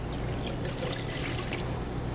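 Water poured steadily into a mixing bowl while making batter for bacala, a continuous close trickling and splashing that runs unbroken.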